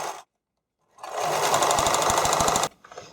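Sewing machine or serger stitching stretched spandex bikini string, starting after a pause and running in a steady fast mechanical whir for about a second and a half, then stopping abruptly, close and clear.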